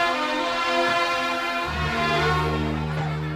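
A passenger train sounds a loud, sustained horn as it pulls away from a railway station platform; the blaring tone drops to a deeper, stronger pitch partway through and carries on without pause.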